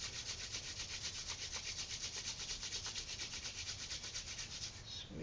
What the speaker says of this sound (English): So rub the palms briskly.